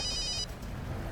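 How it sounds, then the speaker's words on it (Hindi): A telephone bell rings in a short electronic trill that stops after about half a second, close and clear, with low room noise continuing underneath and no talk. "दया सर का फोन।"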